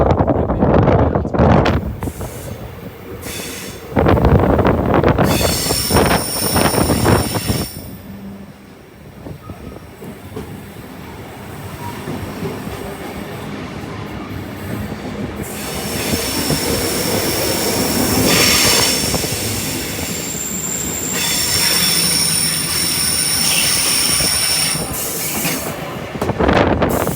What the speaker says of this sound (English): train may have slowed down a little bit